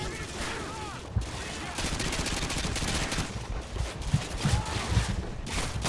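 Rapid gunfire in the Call of Duty: Modern Warfare 2 campaign, dense bursts of automatic shots mixed with explosions and battle din, loud and continuous with brief lulls, under faint talk.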